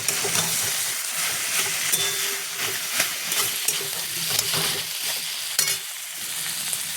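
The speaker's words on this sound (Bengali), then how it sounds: "এবার আমি গ্যাসটা বাড়িয়ে ভালো করে নাড়বো।" Papaya curry sizzles and fries in a pan on a gas stove while being stirred vigorously, with steady loud frying hiss and irregular scraping stir strokes throughout, no talking.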